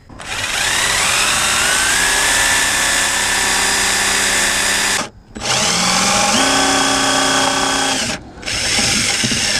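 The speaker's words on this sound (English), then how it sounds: "And I'm going to drill right here." A Milwaukee power drill whirs loudly and steadily, its pitch shifting as it bites into a Toyota Sienna driver door, with two short pauses before it spins up again.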